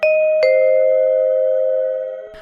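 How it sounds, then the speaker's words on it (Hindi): A doorbell in a flat rings with a sustained two-tone electronic chime, struck once and then struck again, ringing out loud and clear before fading near the end. "तभी उनके फ्लैट की घंटी बजती है।"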